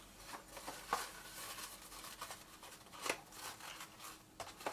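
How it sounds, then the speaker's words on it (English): Paper scissors cut seam binding ribbon in several faint, close snips spaced a second or so apart, with soft rustling of the ribbon and paper between cuts. "I'm using my paper scissors to cut ribbon"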